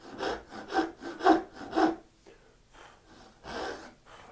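A hand saw cutting a half-blind dovetail in wood, four quick rhythmic rasping strokes followed by a pause and a few slower, softer strokes, close and clear with no talk.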